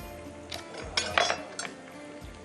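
Light clinks and taps of a spoon against a bowl as an egg goes into a ground kofta mixture, a few quiet, close knocks scattered over a faint background.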